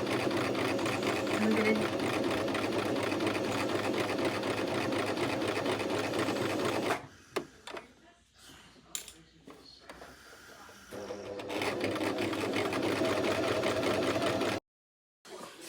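Sewing machine running a straight stitch on fabric, a steady close mechanical whir for several seconds, stopping briefly amid quiet handling and speech, then whirring again before a short silence.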